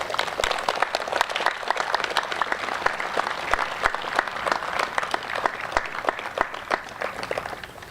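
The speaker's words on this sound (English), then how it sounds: "Give yourselves a round of applause, graduates." Steady, loud applause from a large crowd at a graduation ceremony, many hands clapping continuously without a break.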